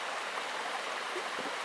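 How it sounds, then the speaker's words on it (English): A small side creek flowing beside a main creek in winter, a steady close wash of rushing water with no voices. "They stay down by the main creek, and this is a side creek"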